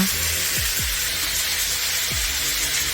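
Kimchi and Spam stir-fry in hot oil in a pan, giving a steady, close sizzle with a few soft low knocks from stirring.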